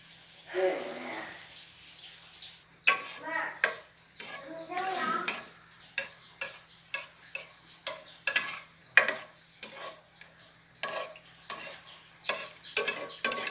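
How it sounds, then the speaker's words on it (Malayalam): Rhythmic scraping and clinking of a utensil stirring cashew nuts frying in a pan, with a soft sizzle underneath, in short repeated strokes close by. "അണ്ടിപ്പരിപ്പ് ഒരു ബ്രൗൺ കളറാവുന്ന വരെ ജസ്റ്റ് ഒന്ന് സ്റ്റിർ ചെയ്ത് കൊടുക്കാം"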